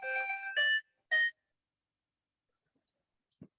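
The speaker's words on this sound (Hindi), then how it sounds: "एक सेकंड रुकना, फोन आ रहा है इंपॉर्टेंट।" A phone ringtone for an incoming call plays three short bursts of melodic tones, loud and close, then falls silent apart from a couple of faint clicks near the end.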